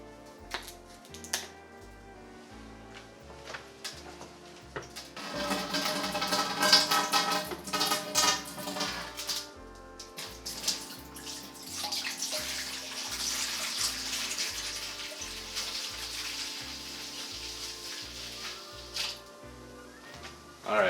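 Apple juice is poured from a container into a pot on a stove, a splashing stream that builds partway through and runs steadily before tapering off, with light kitchen clatter around it.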